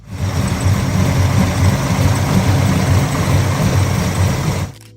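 A Chevrolet 454 cubic inch LS6 big block V8 runs steadily at close range, a loud, dense low rumble with a fast even pulse that holds for about five seconds before cutting off abruptly.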